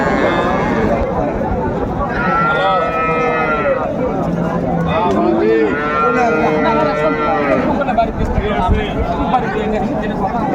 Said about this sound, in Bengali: এই যে এখানে একটা দেখছিলাম গাভি বাছুর